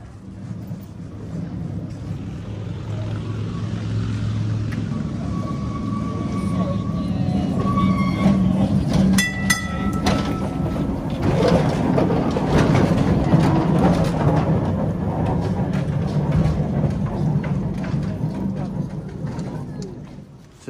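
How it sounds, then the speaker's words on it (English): A vintage tram rumbles past at a transport museum, a heavy low rolling roar with metallic squeals and a bell-like ding midway, building and fading while a person talks over it. "So there's a tram coming."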